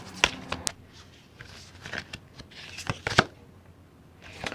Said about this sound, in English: let me go ahead and finish shuffling for you and see